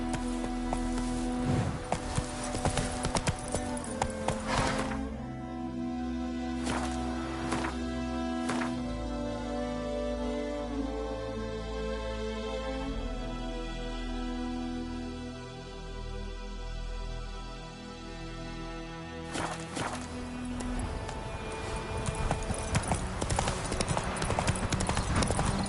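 Roach the horse gallops in The Witcher video game, a steady close clip-clop of hooves running through most of the stretch with a few louder accents and faint rain-like patter behind.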